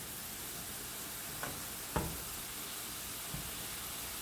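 Sausage patties frying in a pan hold a constant broad hiss of sizzle, with a couple of soft knocks and one sharper clink from a utensil, near and without voices.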